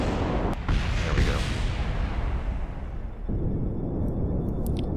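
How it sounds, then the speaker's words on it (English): A deep, sustained rumbling roar of explosions in the video game Kerbal Space Program fills the scene, loud and broadband with a brief dip before the rumble resumes, no talk. "I love the fact that there's still explosions going on while I'm trying to land."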